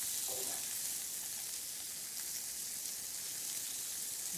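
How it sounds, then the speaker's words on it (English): Peas fry in a crowded frying pan with a steady, even sizzle that holds for several seconds, close and fairly loud, with no talking. "Just let those peas cook a little bit."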